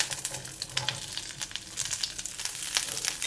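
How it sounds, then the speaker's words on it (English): Ginger, shallots and whole garlic cloves fry in a clay pot over medium heat for a braised fish with tofu, giving a steady crackling sizzle with scattered sharp pops and light stirring scrapes, close and continuous without talk. "Fry them around a little bit. I'm using medium heat now."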